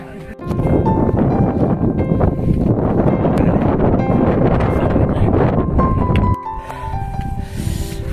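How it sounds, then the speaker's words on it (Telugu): Strong wind buffets the microphone on Girnar mountain in Gujarat, producing a loud, continuous roaring rumble for most of the clip before it drops off abruptly near the end. "గాయస్ చూస్తున్నారు కదా గాలి ఎలాగేస్తుందో, దారుణంగా వేస్తుంది గాలి"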